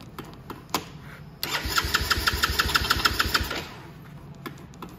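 A choked Venom X20 125cc motorcycle engine, long unused, cranks with a few ticks, then catches and sputters into a rapid, uneven chugging for a couple of seconds before fading back down.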